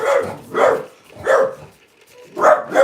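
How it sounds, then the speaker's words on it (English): A dog barks in four loud, separate bursts spaced roughly evenly apart, close by with no other sounds. "It's a dog."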